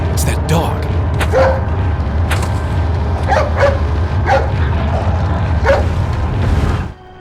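A dog in a Resident Evil 4 boss fight: repeated barks and yips spaced through the scene over a low rumble, with a voice talking alongside.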